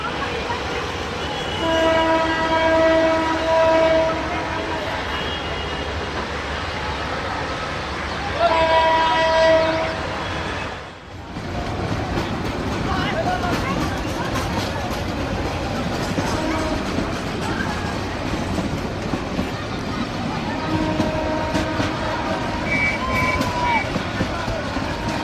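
An overcrowded train in Bangladesh at the Bishwa Ijtama 2018 gathering rumbles along steadily, its horn sounding in long blasts early on, with a noisy crowd and voices over the continuous rail noise.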